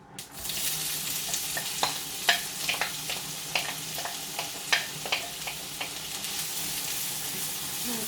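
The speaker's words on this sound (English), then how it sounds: "So I'm going to add in the onion now, because we don't want the mustard seeds to burn." Onion frying in hot oil with mustard seeds popping in a pan, a steady close sizzle punctuated by sharp irregular crackles and pops throughout, with no talking.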